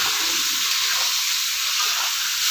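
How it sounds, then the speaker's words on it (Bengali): Eggplant frying in oil with salt, a loud steady bright sizzling hiss without pause, close up. "বেগুনটাও আমি ভালো করে ভেজে নেব"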